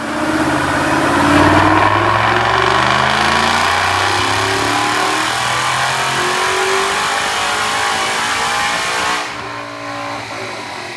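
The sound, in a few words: supercharged 2011 Mustang GT engine during dyno pull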